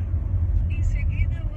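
Chery Tiggo 3X SUV with a three-cylinder 1.0 turbo engine, heard from inside as a low, steady rumble under people talking.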